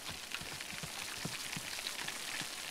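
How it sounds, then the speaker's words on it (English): Hard rain mixed with hail pelting down in a cartoon outdoor scene, a dense steady patter of many small impacts with scattered sharper hits, loud and continuous with no voices. "Hard rain! It's hailing."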